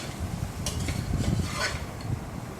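Onions coated with turmeric and chilli powder are stirred in a pan for bitter gourd poriyal, giving a steady soft scraping and light clinking of a spoon against metal under a faint sizzle.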